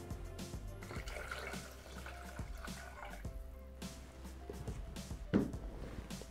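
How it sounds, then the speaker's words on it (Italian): Water is poured into a Thermomix (Bimby) bowl while making risotto with escarole or curly endive, a soft trickling and splashing that is fairly faint, with small clinks and a sharper knock near the end. "aggiungiamo l'acqua."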